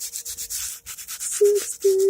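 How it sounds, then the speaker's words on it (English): Hand sanding with cheap 60 grit sandpaper rasps in quick back-and-forth strokes, a close, rhythmic scrubbing with a brief tonal squeak near the end. "sandpaper. Just going back and forth, stroking it, stroking it."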